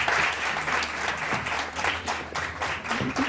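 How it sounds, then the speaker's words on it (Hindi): Sustained audience applause, many hands clapping steadily for a few seconds with no one speaking over it. "इनके लिए बहुत सारी तालियां।"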